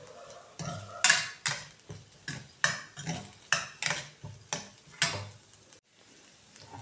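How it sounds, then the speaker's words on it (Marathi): A utensil stirs and scrapes field beans in a hot pan after salt is added, about a dozen rhythmic scraping strokes with a faint sizzle, close and fairly quiet. "मीठ टाकल्यानंतर थोडंसं परतून घेऊ."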